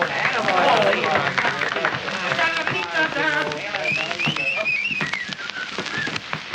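Several people whistle a wavering tune in a dressing room over busy chatter and scattered clapping in a crowded room, from a 1929 film soundtrack.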